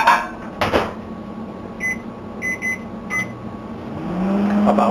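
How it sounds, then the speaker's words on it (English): A microwave oven heating huitlacoche is set with a few short keypad beeps and a door clunk, then its low steady hum starts running. "get the Huitlacoche heating up in the microwave"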